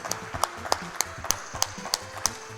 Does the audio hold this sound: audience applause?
yes